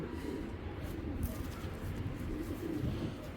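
Racing pigeons of top racer quality coo in a loft, a low steady murmur running continuously throughout with no voices over it.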